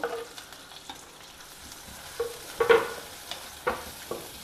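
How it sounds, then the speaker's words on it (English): Chopped onion frying in a pan with crushed ginger and spices, a soft continuous sizzle broken by several louder scraping strokes of a stirring spoon near the end, close by with no voices. "Fry the onions well."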